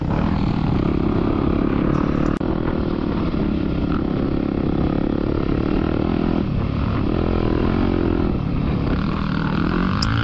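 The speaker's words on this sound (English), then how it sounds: "This thing is flying every time you give it a little bit of gas" A Yamaha two-stroke dirt bike revs hard while being ridden through sand, its loud buzzing engine steady and close throughout, rising and falling with the throttle and mixed with wind rush.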